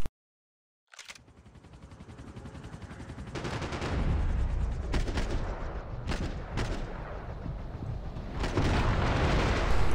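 Gunfire in the shooter Max Payne 3 swells from silence into a dense, loud barrage of shots and booms that builds and keeps rolling to the end.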